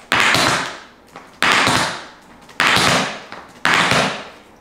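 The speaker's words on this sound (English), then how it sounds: "So our cramp roll goes toe, toe, heel, heel" Tap shoes strike a floor in four cramp-roll bursts of toe, toe, heel, heel, each a quick crisp cluster of taps with a short gap before the next, close and loud with no voice.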